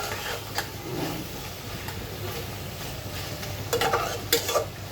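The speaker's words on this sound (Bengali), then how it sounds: "খুব ভালো করে এটাকে কষিয়ে নেব।" Curry for a potol and rui fish dish is sautéed in a pan, giving continuous sizzling frying with repeated scraping stirs and a few sharper utensil clinks near the end.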